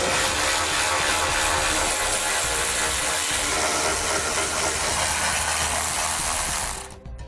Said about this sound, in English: I'm using a 13mm socket to pull those out.